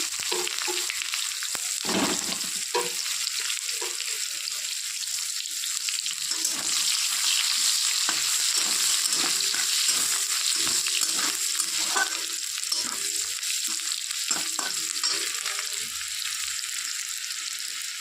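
Cumin seeds and chopped onion fry in oil with cinnamon for a fish dish, a steady crackling sizzle with occasional spoon scrapes and clinks against the pan, moderately quiet throughout.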